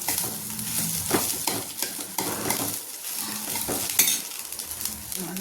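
Onion lemon rice is stirred and mixed in a pan, giving continuous close scraping and soft rustling of grains against metal with occasional clinks of the spoon, no voices present.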